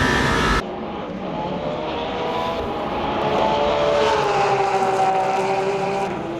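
An LMP2 race car in the Le Mans Ultimate racing game, engine note droning and rising in pitch as it accelerates, steady and fairly close, after a brief cut at the start.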